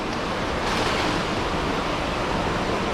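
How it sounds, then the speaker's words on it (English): Water rushes steadily out of a spillway on Tampa Bay after heavy rain, a loud, continuous broadband roar that holds without pause, with no voices over it. "the spillway just dumping out a bunch of water and a bunch of other stuff"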